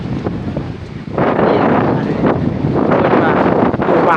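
Strong wind gusting around a mountain village during the stormy season, loud rough buffeting on the microphone that swells after the first second and keeps roaring.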